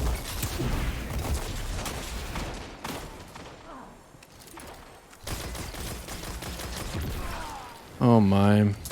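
Gunfire in Destiny 2 on a player-versus-player map, several rifle shots firing in bursts through the clip amid game sounds, with a player's voice speaking over the action.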